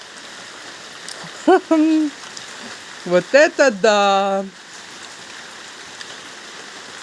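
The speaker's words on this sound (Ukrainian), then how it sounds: "Я вийшла показати вам, що в нас іде дощ." Gentle summer rain falls outdoors, a steady soft hiss running through the whole stretch while someone speaks and laughs briefly over it.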